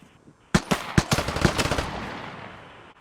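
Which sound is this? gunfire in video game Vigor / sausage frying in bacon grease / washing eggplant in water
gunfire in video game Vigor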